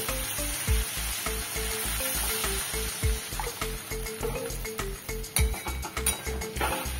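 Spicy masala, fried until the oil separates for a rui fish curry, sizzles in hot oil as water is added. A steady, loud crackling hiss runs throughout, with a rhythmic low thumping and tonal background underneath.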